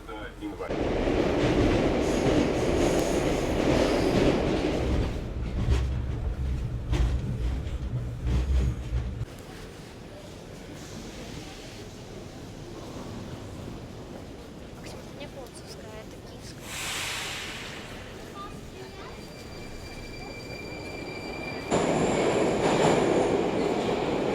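A Moscow metro train runs through the underground with a loud, continuous rumble of wheels on rails, a shifting mechanical whine, and thin high tones near the end.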